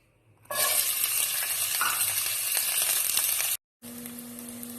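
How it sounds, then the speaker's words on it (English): Onion, garlic and green chili hit hot oil on high heat, a loud, close, steady sizzle that starts abruptly, cuts out briefly near the end, then resumes with a low hum underneath. "let me fry this onion bulb, garlic and green chili first"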